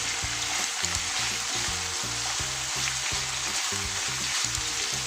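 Chicken liver sautéing in a pan, sizzling and frying loudly and continuously up close, with a steady crackle and occasional stirring clatter throughout.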